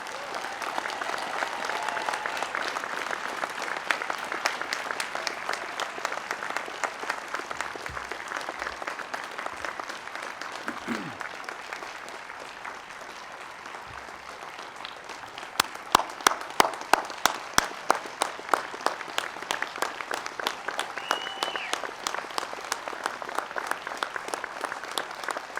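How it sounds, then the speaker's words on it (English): A commencement audience applauds its graduates in a long sustained round of clapping, steady at first and then growing into sharper, louder claps near the end, with faint crowd murmur underneath. "How about a round of applause for all of our graduates?"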